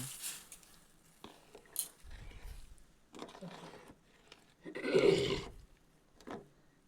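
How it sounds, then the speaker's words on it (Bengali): A spoon stirring sugar into milk in a pot, making faint, scattered scrapes and light clinks with quiet gaps between them and one fuller swish near the end. "এবার দুধের সঙ্গে এই চিনিটি ভালো করে মিশিয়ে নিচ্ছি"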